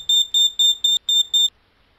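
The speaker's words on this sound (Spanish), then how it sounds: "Eso es la alarma." Electronic alarm in the horror video game Alone beeping in six rapid, evenly spaced high-pitched pulses, loud and clear, then stopping abruptly.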